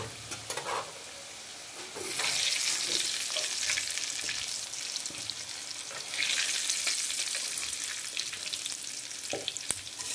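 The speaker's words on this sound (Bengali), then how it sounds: "এবার আলুগুলো ভেজে নেব লাল করে।" Potatoes fry in hot oil in a pan with a steady, fairly loud sizzle and crackle, swelling in bursts as they are stirred, with occasional spatula clicks.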